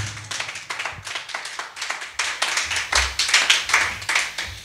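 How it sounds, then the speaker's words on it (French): A church congregation claps rhythmically and steadily in acclamation of Jesus Christ during a sermon, a dense crowd of hands striking in a quick regular beat that grows louder toward the end. "Est-ce qu'on peut acclamer Jésus-Christ?"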